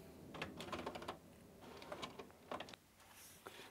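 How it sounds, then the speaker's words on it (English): A printer working through a very long print, giving a run of close mechanical clicks and clattering bursts in uneven clusters, then a faint whirring near the end, with no voice. "wait a couple of moments while the printer processes the information"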